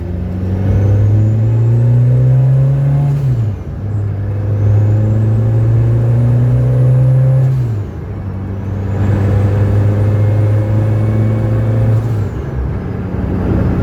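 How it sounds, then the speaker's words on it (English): A turbocharged Citroen Saxo VTS engine of over 330 bhp drones loudly at steady speed around 60 to 70 mph, its turbo whistle rising and falling across two gear changes, continuous road rumble underneath. "it's loud, you hear the turbo whistling"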